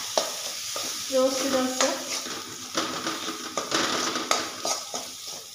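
Peanuts sautéed and stirred in a pan, scraping spatula strokes and clinks against the metal over a light sizzle, with a brief spoken phrase.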